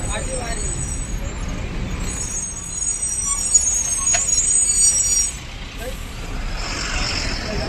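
Road traffic on a busy stretch beside a parking area during a Saptashrungi–Shirdi pilgrimage walk: a steady roar of trucks and buses with a hiss of air brakes and faint beeps, close and continuous, with a voice talking over it.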